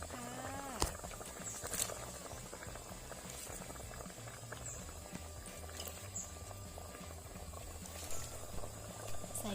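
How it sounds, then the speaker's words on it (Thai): Water comes to a rolling boil in a cooking pot while making sour curry with sesbania flowers, a steady bubbling and churning that runs throughout at moderate volume, with a few faint clinks over it. "เราก็เห็นน้ำเดือดปุ๊บปุ๊บปุ๊บปุ๊บแล้วนะคะ"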